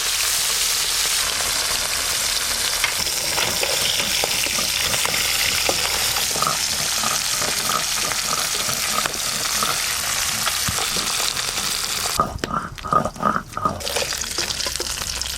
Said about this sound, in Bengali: মাছগুলো কিন্তু তাড়াতাড়ি ভাজা হয়ে যাচ্ছে।